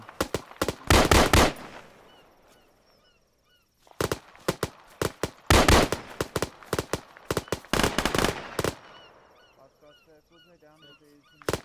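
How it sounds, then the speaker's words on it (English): A machine gun fires loud, close bursts of rapid rounds during counter-ambush training, several separate volleys with short pauses between them and faint background noise. "Yo, you got a machine gun, bro. Shoot the fucking thing."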